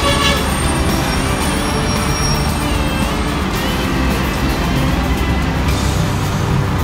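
Loud, continuous roar of heavy traffic along EDSA in Manila, heard close up while walking beside the road, with cars, buses and trucks rumbling past and occasional horn toots cutting through the din.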